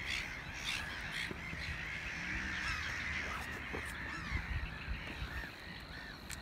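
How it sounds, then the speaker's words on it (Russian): A loud, continuous clamor of many birds, with geese honking and harsh cawing calls layered over one another outdoors. "Вообще птиц здесь очень много, и такой гомон стоит птичий."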